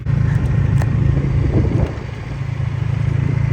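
A Junak M16 motorcycle on a test ride, its engine a loud, close, low rumble that eases briefly midway and then settles back to a steady drone, no voices.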